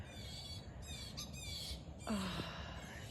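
Several birds chirp and call outdoors on a cool, sunny day, with bright repeated calls in short bursts and a louder nearby squawk near the end over a steady low background rumble.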